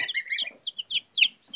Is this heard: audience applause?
no